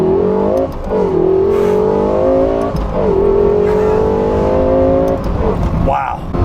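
A Lexus LFA supercar's engine revs hard under acceleration from inside the cabin, climbing in pitch in two long rising pulls with a gearshift dip between them, loud and steady as a passenger speaks over it.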